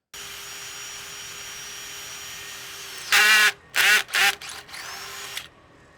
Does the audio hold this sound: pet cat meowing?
no